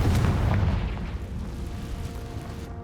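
A Confringo fire spell bursts in Hogwarts Legacy: a deep booming explosion that starts loud and rumbles as it decays over a few seconds, with no voices.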